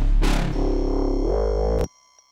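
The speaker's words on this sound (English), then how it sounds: "So the second phrase of the basses sounds like this." A loud, distorted jump-up drum and bass wobble bass growls and sweeps, its tone bending and shifting, before stopping sharply into near silence.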